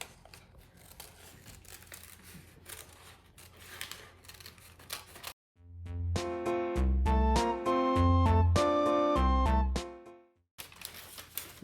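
Scissors snip through folded paper during a Greek pottery art lesson, making a run of crisp close cuts and rustles before music takes over partway through.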